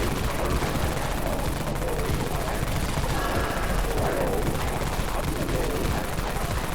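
Dawn Mag gun firing in the Dead Frontier video game: a dense, continuous barrage of rapid shots, loud and unbroken for the whole stretch, with no pauses between bursts.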